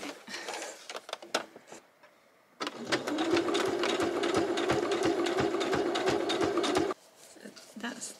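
A sewing machine runs a burst of fast, steady stitching along the top edge of a tie-dye tee shirt seam, close and even, with quieter handling noises and pauses before and after.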